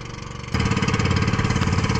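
A boat engine sputters to life about half a second in, then idles steadily with a close, chugging rhythm.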